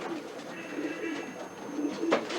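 Pigeons cooing in a breeder's loft in Cairo, with soft repeated coos and light bird calls under steady ambient noise, moderately close and fairly quiet.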